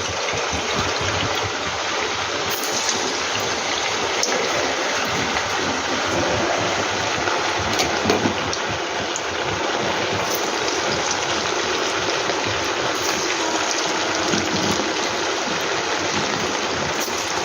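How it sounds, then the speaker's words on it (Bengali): Rain pours down outside in a constant, broad rushing wash that holds steady at the same loud level, with faint low rumbling beneath and no one speaking. "টুকুর টাপুর করে বৃষ্টি পড়েই যাচ্ছে"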